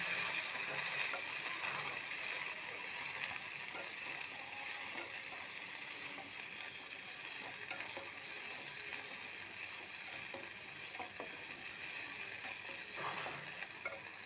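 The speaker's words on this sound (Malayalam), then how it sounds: "നമുക്ക് എണ്ണയ്ക്കകത്തൊന്ന് വണക്കിയെടുക്കാം" Turkey berries fry in oil in a pan, giving a steady, close sizzle with scattered stirring clicks and scrapes throughout, no voices.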